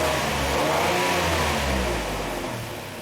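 A Lincoln MKT engine with low fuel pressure and a lean condition revs up from idle, a steady mid-pitched rising roar held for a few seconds, close by and loud, then easing slightly toward the end.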